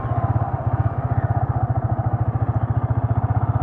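A motorcycle sits at steady revs on a straight road for a drag start, its engine pulsing in a fast, even rhythm near the listener with no talk.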